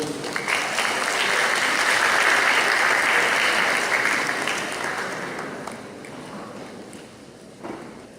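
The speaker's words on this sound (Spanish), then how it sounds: "Un aplauso, por favor." An audience claps steadily, a dense wash of applause that swells early and gradually tapers off.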